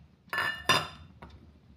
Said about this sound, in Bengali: গ্যাসটা দেখুন লোতে রেখেছি, লোতে রেখে একটু নাড়িয়ে নিচ্ছি।